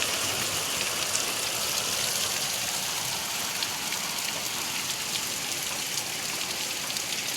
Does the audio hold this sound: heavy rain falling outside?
yes